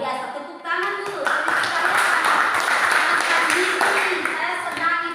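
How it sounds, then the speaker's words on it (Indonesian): Classroom group applause, a lively burst of hand clapping from students that starts suddenly and carries on steadily, close and loud, with children's voices mixed in. "Luar biasa, tepuk tangan dulu."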